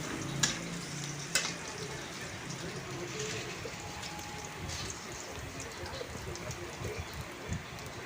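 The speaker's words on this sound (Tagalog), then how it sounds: "Siyempre mag-gisa yung bawang." Garlic sizzling and crackling in oil in a frying pan, cooked as the first step for kare-kare, a steady close hiss with occasional stirring clatter under a voice.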